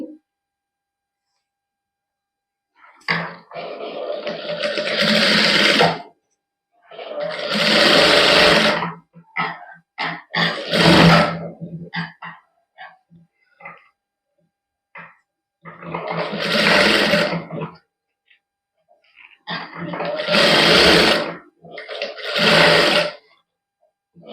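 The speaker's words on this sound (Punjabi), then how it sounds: "ਪਹਿਲਾਂ ਗਲੇ ਦੇ ਚਾਰ ਸਪੇਸ ਸਲਾਈ ਲਾ ਲਾਂਗੇ ਕੱਪੜਾ ਉੱਪਰ ਵੱਲ ਨੂੰ ਮੋੜ ਕੇ" An electric sewing machine stitching a dress neckline runs in four loud, close whirring bursts of several seconds each, separated by quiet pauses.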